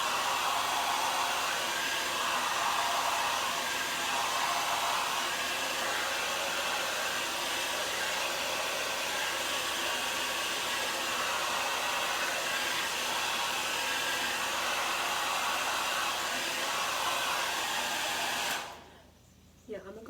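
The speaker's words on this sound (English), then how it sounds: "for the sake of the new routine, we are using a diffuser." Hair dryer fitted with a diffuser attachment, drying 3B curly hair: a loud, steady blowing whir that runs unbroken for most of the clip, then cuts off abruptly near the end, leaving quiet.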